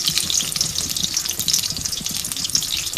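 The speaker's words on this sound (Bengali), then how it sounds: "তেলটা গরম হয়ে গেছে। এরপর যে আমি পেঁয়াজ কুচি দিয়ে দিব, পেঁয়াজ কুচি দিয়ে দিলাম।" Chopped onion sizzles and crackles in hot oil in a pan, a close, continuous frying hiss with no talk.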